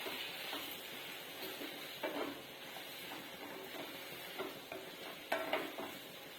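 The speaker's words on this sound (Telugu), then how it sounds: "ఇప్పుడు ఒకసారి ముక్కలకి కారం పట్టే విధంగా కలుపుకుందాము" Potato pieces being stirred with chili powder and ginger-garlic paste in a pot for potato pulusu, with soft scraping and clinking of a spoon against the vessel, quiet and intermittent, no talking.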